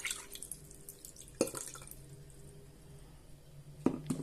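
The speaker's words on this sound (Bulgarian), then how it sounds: "Изсипвам в чашка" Soaking water from oranges is poured into a small cup, giving soft splashes and drips with two brief louder spills near the start and end, fairly close and quiet, with no talking.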